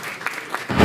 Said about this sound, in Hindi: तो एक बार जोरदार तालियों से AR जोशी साहब।